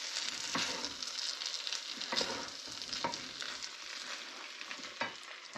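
Food fries and is stirred in a wok with a loud continuous sizzle and repeated scraping strokes of the utensil, close up with no talking.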